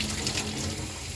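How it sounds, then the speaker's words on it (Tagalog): Water from a kitchen faucet runs steadily into a sink, a continuous hissing splash at constant level with no voices. "Patay na natin yung gripo."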